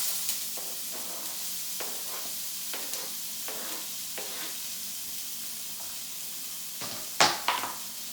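Onion, shallot and garlic frying in a pan with leftover bits of meat for a spaghetti sauce, a steady soft sizzle with occasional stirring scrapes and a brief louder clatter near the end.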